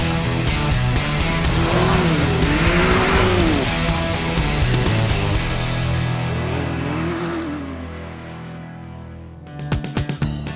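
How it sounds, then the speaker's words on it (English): Can-Am Maverick off-road vehicles run across a clay section in Grand Staircase-Escalante National Monument, engines revving and whining loudly and steadily, the pitch rising and falling, then fading before a few sharp clunks at the end. "we're gonna take the Mavericks out on here and ride this clay section"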